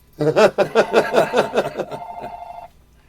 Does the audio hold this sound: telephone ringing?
yes